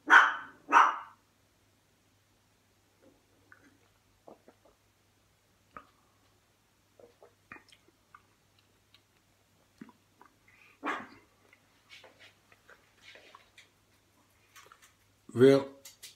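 Dogs bark at something in a garden, a couple of loud barks at the start and another burst near the end, with scattered faint clicks and small sounds in between.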